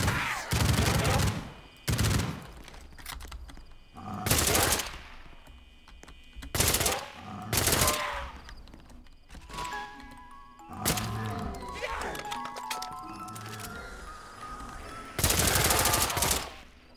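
MP5 submachine gun fire in a Call of Duty zombies game, with loud rapid bursts repeating every couple of seconds, some longer volleys, and a few lighter game effects in the gaps between them.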